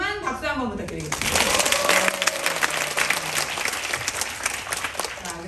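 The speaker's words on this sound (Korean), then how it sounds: "그러실 분만 박수 한번 부탁드리겠습니다" An audience at a Korean business talk claps together, a dense burst of applause that swells and holds steadily, with a voice heard at the start before the clapping takes over.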